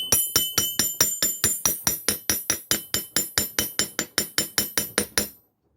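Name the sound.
hammering a crochet hook to straighten it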